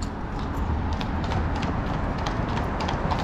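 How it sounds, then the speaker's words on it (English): Horses clip-clop along a seaside promenade in rain, a faint, steady patter of hoofbeats half-buried under broad wind and traffic noise. "Horses out there."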